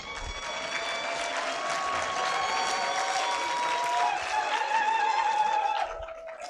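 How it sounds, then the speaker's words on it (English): Graduates at a university congregation ceremony in a conference centre give a sustained round of applause, loud and continuous for several seconds with crowd cheering mixed in, then tapering off near the end. "A round of applause for yourselves, please."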